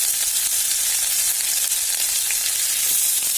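Ginger and garlic sizzle steadily in hot oil with a continuous bright, crackling fry while a paneer dish is cooked, the sound close, loud, and unbroken with no talk.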